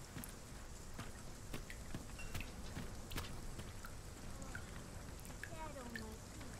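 Steady rain patters in Dragon's Dogma 2, a constant wash of drops under a small roof, with occasional sharper taps and faint distant tones layered through the downpour.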